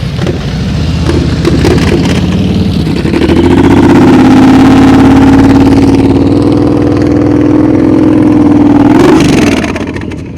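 Motorcycle engine during slow-speed riding practice, held at a loud, steady high throttle for several seconds with a sustained droning tone, then dropping off near the end; no talking.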